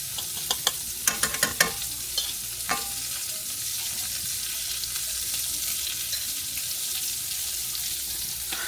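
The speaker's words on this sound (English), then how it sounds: "let's pour the eggs in." Beaten eggs go into a hot pan for breakfast sandwiches cooked for a senior center, with a few sharp clinks and scrapes at first and then a soft, continuous sizzle of frying under faint kitchen noise.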